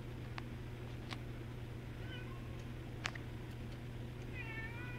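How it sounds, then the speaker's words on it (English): A house cat meows a few times in the background of a room with a steady electrical hum, its short calls faint and spread out over several seconds. "And I have a cat meowing in the background."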